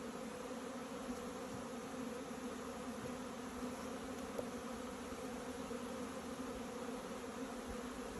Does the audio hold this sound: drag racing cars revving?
no